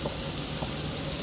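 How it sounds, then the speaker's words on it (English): Steady, dense crackling sizzle of bacon frying in a hot pan, continuous and fairly close, with no talking. "Look at that sizzle."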